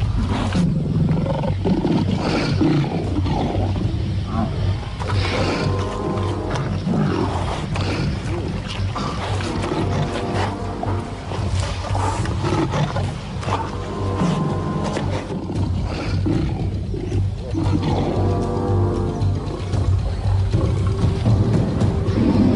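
Lions clashing with a buffalo herd in the wild, with deep rough roars and growls rumbling continuously amid scuffling, grinding noise and heavy movement, loud and close throughout.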